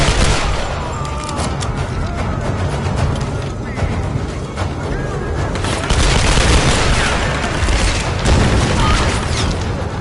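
Dense, continuous shotgun fire and booming blasts from the action video game Tomb Raider Definitive Edition, loud and chaotic throughout, with someone talking briefly over the combat.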